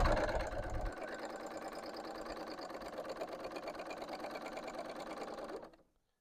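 A serger sewing machine runs steadily under foot-pedal control while a thread chain is sewn for tassels, giving a close, continuous rapid whir. It starts with a brief louder burst and stops abruptly near the end.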